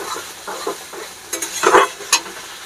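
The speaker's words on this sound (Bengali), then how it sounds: "একসঙ্গে ভালো করে এই যে মশলাটা আমি ভালো করে কষিয়ে নিলাম" A spice paste of ground mustard, dried chili and cumin is stirred and fried in a pan, giving soft sizzling with scraping stir strokes. The strokes grow louder, with a sharp scrape near the end.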